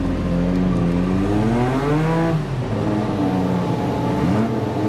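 A restored 1986-era Williams FW11 Formula 1 car with its Honda engine runs at Goodwood, a loud, continuous high-pitched racing engine note rising and falling through gear changes and revs, close and unbroken.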